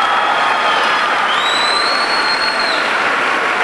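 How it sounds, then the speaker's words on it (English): Audience at a 1996 high school commencement ceremony breaks into sustained, dense applause, a steady wash of clapping with a few whistles rising above it, loud and continuous throughout. "How about a big round of applause?"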